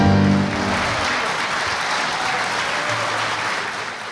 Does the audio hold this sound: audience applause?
yes